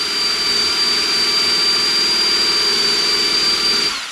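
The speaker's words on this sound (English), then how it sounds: "So just grinding this off, grinding the black off" Steady, loud high-pitched whine of a power grinder abrading the black coating off the steel flywheel of a Toro Recycler lawnmower with a Kohler XT675 engine, running continuously for several seconds before winding down at the end.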